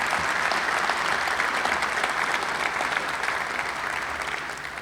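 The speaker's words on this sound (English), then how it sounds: "Yes, go ahead, you give that a big applause." Steady, dense applause from a large crowd in Ohio Stadium at a college football ceremony honoring Archie Griffin, sustained and loud throughout, tapering slightly at the end.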